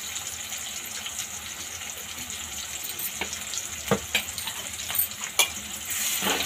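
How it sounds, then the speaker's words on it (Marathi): Spices and chopped sour greens fry in oil in a pan, a soft continuous sizzle with scattered crackles and a few louder spits and stirring knocks toward the end. "आता हे सगळे आपण तेलामध्ये 2 मिनिटं फ्राय करून घेऊया।"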